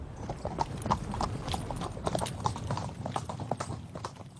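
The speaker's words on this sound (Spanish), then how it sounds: "aprendió a sentarse firmemente sobre un caballo" Horse hooves clip-clop in a steady, brisk rhythm on firm ground, the sharp knocks close and continuous over a low rumbling background.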